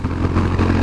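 Honda CB350 RS motorcycle engine pulling in second gear, a loud, steady low thrum with a deep pulsing exhaust note across a brief moment.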